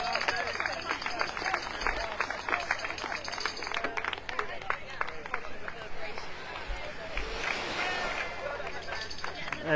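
A crowd at the finish of the SUPERCHAMPS 2024 distance paddleboard race gives scattered clapping and cheering for an arriving racer, moderately loud beneath a commentator talking.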